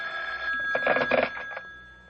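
A telephone rings in a quiet room at night, a steady, close electronic bell tone pulsing in a short burst, with no voices over it.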